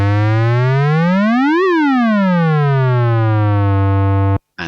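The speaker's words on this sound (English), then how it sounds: "you heard that pitch rising and falling as per the envelope" A single sustained note from a Serum software synth, its pitch swept by an envelope, bright and harmonically rich, gliding up to a peak and then sliding back down to hold steady before cutting off abruptly.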